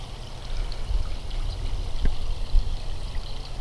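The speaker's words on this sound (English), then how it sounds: "The bog and the waterfall are still going" Waterfall running beside a bog on a cold day, a steady close rush of flowing water with a few splashy bumps in the wash.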